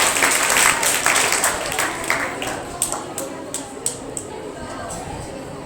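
Applause from guests at a congratulatory ceremony welcoming a woman on stage, starting as a dense wash and thinning into a handful of distinct, separate claps toward the end.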